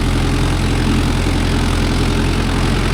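The engine of a Mahindra Yuvo Tech Plus 585 4WD tractor fitted with a new cultivator for ploughing runs loud and close, a steady low rumbling throb with a rough, even chug throughout, with no voices.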